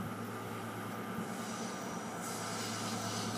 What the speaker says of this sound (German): Das ist eine Dies-Lok, Leute.